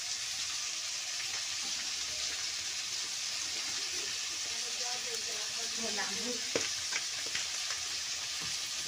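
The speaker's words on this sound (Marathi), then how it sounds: "तेलामध्ये परतू घेते" Onion and potato pieces fry in oil in a home kitchen pan, giving a steady soft sizzle with a few light stirring scrapes and clinks near the end.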